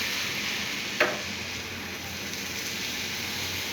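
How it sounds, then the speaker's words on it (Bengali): Food sizzles steadily in a nonstick frying pan with a little oil, a constant close hiss broken by a single clink from a utensil early on, with no talking. "ননস্টিক ফ্রাই প্যানে অল্প তেল দিলে হয়ে যায়"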